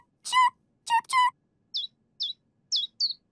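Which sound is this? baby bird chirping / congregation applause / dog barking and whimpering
baby bird chirping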